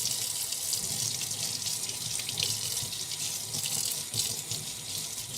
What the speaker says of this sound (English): Let's just rinse the whisk off.